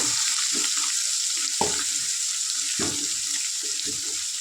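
Garlic fries in a pan of oil with cumin and mustard seeds, giving a constant loud hiss with a few dull knocks of stirring near the mic.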